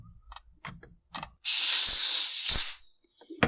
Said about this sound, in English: Here I'm squirting around the muffler yet.